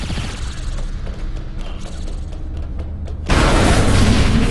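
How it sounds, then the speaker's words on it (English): A bomb goes off in Saints Row IV: after a stretch of rumbling game noise with small clicks, a sudden loud broadband blast erupts and roars on to the end. "Let's blow this up."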